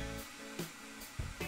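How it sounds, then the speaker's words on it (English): A handheld blow dryer runs steadily to dry paint between coats on a tabletop industrial walkway terrain model, giving a close, continuous broadband whoosh with a few brief louder bumps. "Having a blow dryer is handy to speed up the build in between coats."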